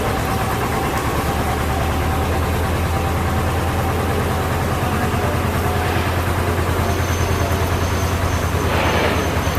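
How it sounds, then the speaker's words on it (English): A canal boat engine chugs in a loud, steady rhythmic beat on a canal trip from Little Venice to Camden Lock, running continuously close by without any voices. "Now we speed up again as we leave Liston Wide and the moored boats."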